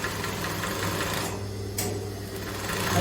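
Close, steady mechanical whir and rapid needle chatter of a sewing machine stitching a straight seam along the 0.25 line of a gathered skirt, continuous and even for a few seconds.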